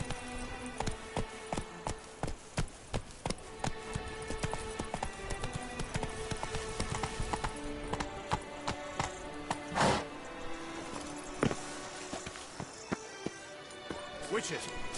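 Hooves of Roach, Geralt's horse in the video game Witcher 3, clop in a fast running rhythm, with sharp repeated strikes over a layer of ambient game sound and a few other brief knocks.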